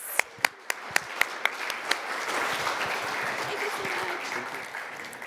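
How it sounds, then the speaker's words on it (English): An audience at an energy start-up award ceremony claps in a few sharp, separate claps at first, then swells into sustained, dense applause that fills the rest of the stretch. "Another round of applause for Laurelle, Niemack, and Koolboks."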